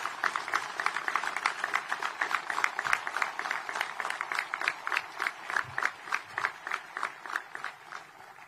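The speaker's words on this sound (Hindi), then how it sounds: "एक बार अपने स्थान से ही तालियां बजाकर सभी का अभिनंदन करें" An audience at the Army Sports Institute applauds Olympic medal winners and participants with a long, steady round of rhythmic clapping, many hands beating together in a brisk, even pulse that continues throughout.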